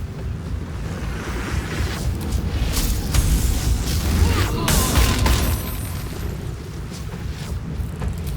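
A detonation in the video game Baldur's Gate 3, at the Steel Watch Foundry, rumbles as a sustained low boom through the middle of the passage over continuous game ambience, with brief voices around it.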